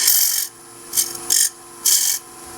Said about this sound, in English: often make finishing cuts on bowls with a 1/4 inch bowl gouge that's ground straight across